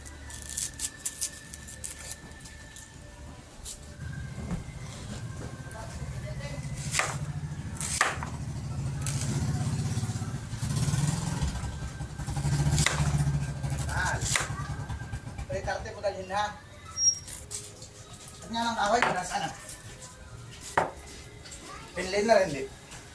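Knife chopping white onion for a garnish, a few sharp cuts spread through the clip over a steady low background rumble, with faint voices near the end.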